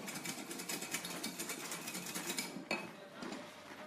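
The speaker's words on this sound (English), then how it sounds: "have your mixer ready, which is here with the whisk attachment" A stand mixer fitted with a whisk attachment, whipping a marshmallow mixture, runs with a steady whirring, rattling drone at moderate volume, alone and without talk.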